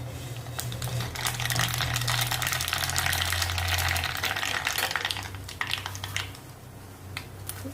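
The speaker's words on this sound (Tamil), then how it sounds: "இந்த கடுகு போட்டுருவோம்" Mustard seeds spluttering in hot coconut oil while tempering for a drumstick sambar: a dense, hissing crackle up close that thins into scattered pops toward the end.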